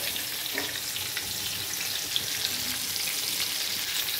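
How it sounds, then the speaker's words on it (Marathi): Food frying in plenty of oil, a steady, dense sizzle and crackle that holds evenly close by throughout, with no talking. "बघा कसं व्हायला लागलंय, पुण्याचं तळायला लागलं मस्त"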